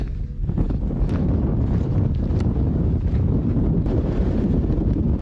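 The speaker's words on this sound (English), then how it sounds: "Sorry for the wind noise." Steady, loud wind buffeting the microphone outdoors, a continuous low rumble with no talk.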